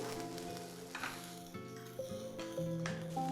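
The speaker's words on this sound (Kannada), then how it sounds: "ಇಲ್ಲಿ ಏನ್ ಮಾಡ್ತಿದೀನಿ ನೋಡಿ ಎಣ್ಣೆ ಹಾಕಿ ಹುರ್ಕೊಳ್ತಿದೀನಿ" Onion, tomato and garlic frying in oil in a pan, a soft steady sizzle with occasional stirring scrapes, while musical tones run through the background.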